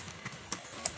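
Minecraft horse sounds in a survival game, with a few short, soft clip-clop taps spaced through the moment and a brief louder sound at the end, over quiet background.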